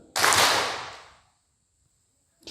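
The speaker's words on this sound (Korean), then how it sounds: "제가 박수 한번 칩니다." A single sharp, loud hand clap from a speaker during a Korean Buddhist dharma talk at a meditation center's anniversary, ringing briefly and fading over about a second, then a faint second sound near the end.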